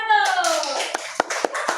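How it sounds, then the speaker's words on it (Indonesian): Children in a classroom clapping for a group, with a few scattered sharp claps following a voice in a brief moment. "tepuk tangan untuk kelompok 1"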